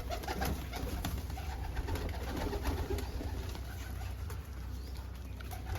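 Pigeons coo continuously in a dense, overlapping chorus close by, with soft flutters and scuffling underneath.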